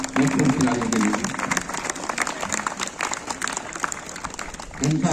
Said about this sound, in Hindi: एक बार जोरदार तालियां हमारे खिलाड़ियों के लिए।